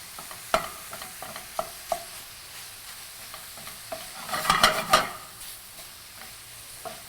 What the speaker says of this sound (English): If I just sit here and stir this for minutes on end, I'm kind of steaming the meat instead of letting it brown.